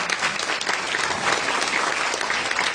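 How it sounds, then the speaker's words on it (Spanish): Audience applause fills a business panel on successful women entrepreneurs, a dense, steady wash of many hands clapping loudly and continuously with no voices over it. "un aplauso para todos ustedes"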